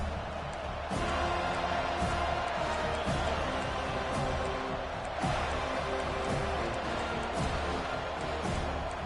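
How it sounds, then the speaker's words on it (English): Steady roar of a stadium crowd in a college football video game, Alabama at Florida State, with swells of cheering running continuously throughout. "This crowd trying to show them what it's going to be like all day in this house."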